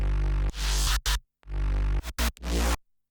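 Main bass group in a remix with the sub bass unmuted, a heavy, deep low end under choppy gated bass notes that come in short bursts with silent gaps.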